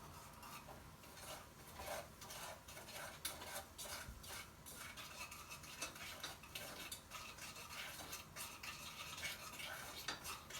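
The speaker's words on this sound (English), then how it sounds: "I'm going to use my spoon to turn this and mix it really good." Spoon stirring hot chocolate in a pot, a continuous soft scraping and swishing with faint clinks, quiet and steady with no talk.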